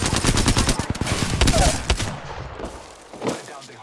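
Apex Legends gunfire erupts in dense, rapid volleys at close range, then thins out to a few scattered shots as the firing dies down, with voices in the mix.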